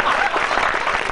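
Audience applause at a Hindi poetry recital, a dense, steady burst of many hands clapping together that fills the whole moment.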